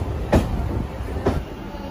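A Bhadrak–Cuttack MEMU passenger train runs with a steady low rumble and two soft rail clacks a second apart, heard from on board.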